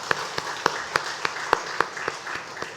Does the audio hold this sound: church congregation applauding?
yes